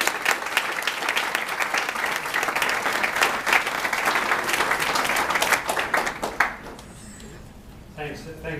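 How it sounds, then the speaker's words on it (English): Evening event audience breaking into loud, dense applause that holds for about six seconds before dropping away quickly, followed by quieter room tone and a voice beginning to speak at the end. "round of applause, please"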